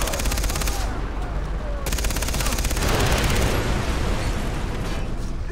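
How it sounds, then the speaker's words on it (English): A mounted gun firing in the video game Far Cry 3, a loud, rapid stream of automatic shots with a short break, then heavy blasts and continued fire. "But this is a mounted gun."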